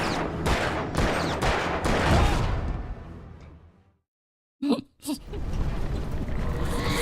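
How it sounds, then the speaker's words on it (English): Gunfire in the video game Alan Wake is aimed at a lock: a rapid burst of loud shots, then a brief silence and two short sharp reports before the game's ambience returns. "Can I just shoot the frickin' lock?"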